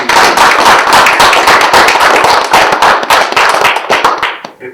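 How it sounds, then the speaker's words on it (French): An audience at a Black History event in Montreal gives a city councillor loud, dense, close applause. The sharp, rapid hand claps go on steadily and fade out at the very end. "Un applaudissement"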